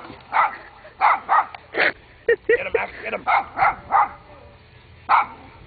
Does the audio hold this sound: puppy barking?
yes